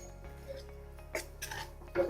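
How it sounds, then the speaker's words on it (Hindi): Wheat flour roasting for halwa in a large kadhai, with faint, sparse scraping and clinking of a metal spoon against the pan and a few louder scrapes near the end. "पूरा ध्यान यहाँ लगाएं और देखें कि हम कैसे भून रहे हैं"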